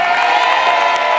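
Game-show studio audience cheering and applauding for a contestant family, a dense steady roar of crowd noise and whoops, loud and continuous for the whole short stretch with no talk over it.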